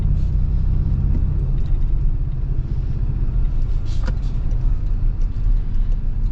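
A 2026 Toyota Tacoma TRD Pro with a four-cylinder engine pulls away under acceleration, giving a steady, close, loud low rumble of engine and road noise that holds for the whole stretch without talk.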